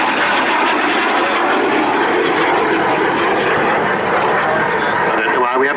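A BAC Jet Provost jet aircraft makes an inverted flypast at Cosford airshow, giving a loud continuous engine roar throughout. An announcer's voice over the PA is likely mixed in.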